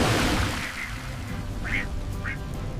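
A few short, nasal duck quacks stand out over a hissy, noisy bed, sounding fairly near and spaced about a second apart.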